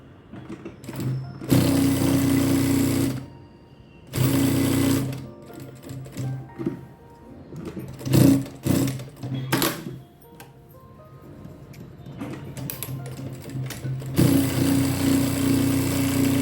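A sewing machine stitches a cloth neck strip in several loud bursts of whirring stitching, separated by quiet pauses while the fabric is turned, with a long final run of stitching at the end.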